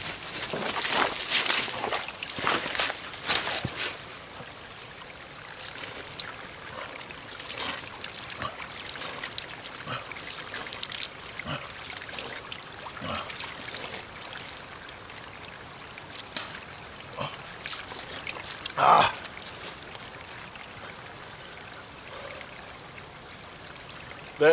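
Cold mountain spring water trickles and splashes steadily in George Washington National Forest, a close, continuous burbling flow with small irregular spatters and no talking.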